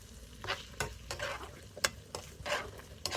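A rice bowl mixed with seaweed is stirred by hand, giving soft repeated scraping and tapping of a utensil against the bowl in an uneven rhythm, fairly quiet and close.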